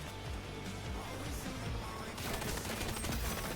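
Dense, rapid gunfire from the online shooter XDefiant, overlapping bursts and automatic fire crackling continuously at steady loudness for a few seconds, with no clear speech.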